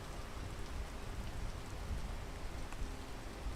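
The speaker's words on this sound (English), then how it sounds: "And the rain is back." Steady rainfall in the video game PEAK, a dense, even hiss of drops on surfaces with no break, close and continuous throughout.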